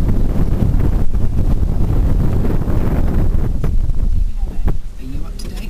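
Strong wind blasting a microphone during a snow storm on the Glenshane Pass in March, a continuous roaring buffet that stays loud throughout and eases slightly toward the end, with voices talking over it.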